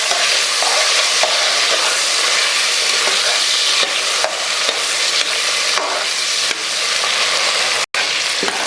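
Garlic sautés and is stirred in a hot oiled pan, a loud, steady, dense sizzle of frying that continues throughout, with only faint scraping accents and no talking.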